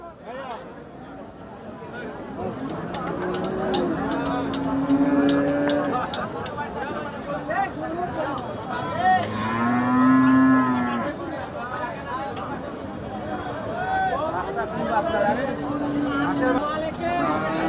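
Cattle moo repeatedly at a livestock market, several long low calls from different animals, over a busy background of crowd chatter and voices.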